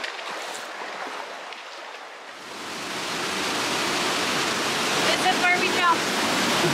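A waterfall drop-off in the Grand Canyon roars as a broad, steady rush of falling water that swells louder and closer midway through and then holds, with no talking heard.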